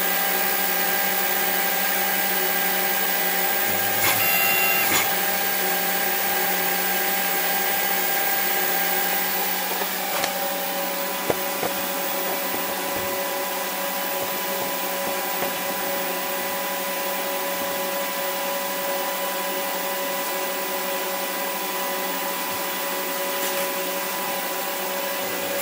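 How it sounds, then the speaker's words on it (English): CNC machine under Mach3 control running a machining job, a steady whining motor hum with sustained tones and occasional brief shifts as the tool moves, close and continuous throughout. "Okay, that's finished doing that machining."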